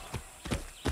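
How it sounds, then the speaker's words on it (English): A horse in Far Cry 6 plods through three heavy hoof thuds at an even, unhurried pace, close by, with no clear whinny. "Be nice, horse."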